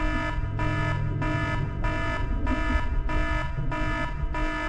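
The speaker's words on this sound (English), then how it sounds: "Someone had to activate the emergency alarm." Emergency alarm buzzer in the video game Seven Mansions: Ghastly Smile, sounding after an electrical fault in a research building: a loud, steady repeating electronic tone pulsing in even bursts about twice per second throughout.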